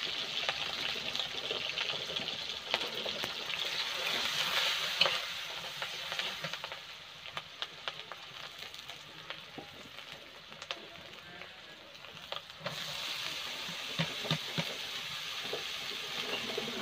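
Chopped onion and green chillies fry with bottle gourd peel in a pan, a steady close sizzle with stirring scrapes and occasional clicks, dipping quieter in the middle and rising again near the end.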